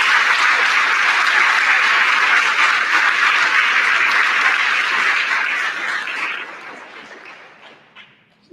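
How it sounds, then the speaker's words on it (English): A high school assembly crowd gives graduating seniors a final round of applause, loud and sustained clapping that holds steady and then tapers off into near silence. "Let's give them all one final round of applause."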